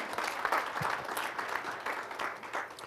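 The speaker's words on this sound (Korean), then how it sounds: "여러분 뜨거운 박수로 환영해 주시기 바랍니다." An audience at a lecture claps steadily to welcome the speaker, a dense and even patter of many hands at moderate distance that carries on throughout without any talking.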